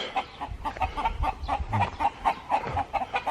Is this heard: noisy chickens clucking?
yes